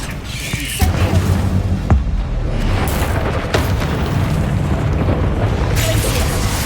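A Bombarda blast spell from Hogwarts Legacy bursts in a heavy boom with rumbling debris, followed by further sharp impacts over a dense, continuous roar of game effects.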